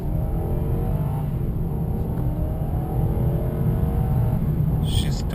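A Lexus LS 430 accelerates on the highway, with a steady, loud low rumble of engine and road noise inside the cabin and faint rising engine tones under the drone.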